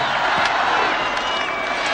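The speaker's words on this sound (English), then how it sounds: "Big crowd on hand here today." A big stadium crowd at a college football game between Nebraska and Texas Tech, a dense continuous roar of cheering and shouting, loud and sustained throughout.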